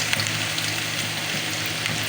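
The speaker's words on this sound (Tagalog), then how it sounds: "Mantika. Dalagyan na po natin ang ating luya." Ginger sizzling in hot cooking oil in a small pan, a steady, loud, continuous frying hiss with no break.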